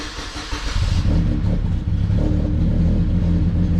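A car engine idles and runs steadily after its throttle body has been plugged back in, a close, even mid-pitched rumble that rises slightly after a brief rev near the start.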